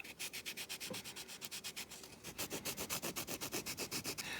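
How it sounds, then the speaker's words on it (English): A dried clay sculpture is carved and smoothed by hand, producing quiet, close, rhythmic rubbing and scraping strokes in an even back-and-forth pattern throughout. "First I'm just going to flatten the edges, and then I'm going to carve it into shape."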